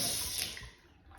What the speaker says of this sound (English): The cold, anti-clockwise to turn it on,